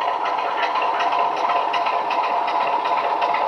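A model diesel engine sound from a Heljan Class 27 model locomotive fitted with a sound unit idles with a steady, throbbing chug at moderate volume, pulsing evenly without pause and with no voices.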